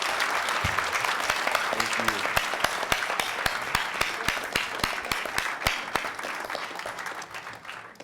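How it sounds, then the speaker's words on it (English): An audience applauds at a talk event, a crisp run of individual claps forming a steady round that tapers off near the end, with a brief spoken thanks under it. "Let's give them a round of applause."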